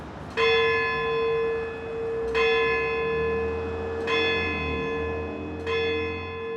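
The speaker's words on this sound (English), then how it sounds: "the red brick bell tower that sort of looms over the whole town and chimes out the hours on the hour" A courthouse bell in a red brick tower looming over Wagga Wagga strikes the hour, four resonant, ringing strokes spaced a second or two apart, with a low rumble underneath.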